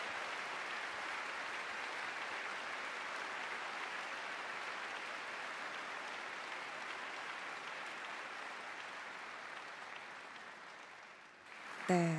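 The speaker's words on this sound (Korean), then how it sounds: "박수 부탁드리겠습니다" Sustained applause from a concert audience at Lotte Concert Hall welcomes a pastor and his wife, a broad, even wash that holds steady for many seconds before fading, and a voice cuts in at the very end.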